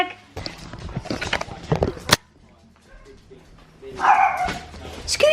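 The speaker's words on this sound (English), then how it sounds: "As soon as next door's dogs comes out, it's like a barking contest in the garden." Neighbouring dogs barking in a back garden, with a burst of yapping and whimpering, a pause, then more barks returning near the end, while a person talks over the first part.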